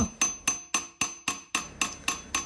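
A hammer strikes a red copper sheet over and over as it is shaped into a ladle bowl, landing about nine sharp, evenly spaced blows, each clanging close and loud and ringing briefly.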